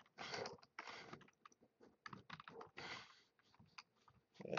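Fingers tap on a computer keyboard in bursts of rapid, close clicks with short pauses between runs, quiet and without any voice.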